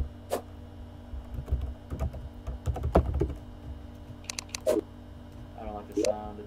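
Computer keyboard keys clack in short irregular bursts during a Minecraft play session, close and fairly loud, with people talking in between.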